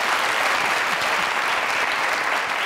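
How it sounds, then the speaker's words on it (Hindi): Studio audience applause at a live comedy show rises as a thick, even wash of clapping that holds steady throughout. "अरे तालियां मेरे लिए।"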